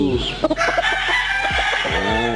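A six-month-old young rooster (stag) crows nearby, its rising strained call ending in a drawn-out note, with short clucks and scuffling sounds before it.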